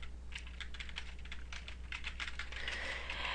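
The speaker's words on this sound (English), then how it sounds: "you can go ahead and directly type in a website" Steady, fairly quiet keystrokes on a computer keyboard as a website address is typed into a Google Docs document, a quick even run of clicks with no talking.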